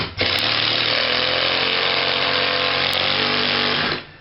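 A power drill driving a screw into wall framing for a master bathroom, one steady loud whine lasting about four seconds before it stops.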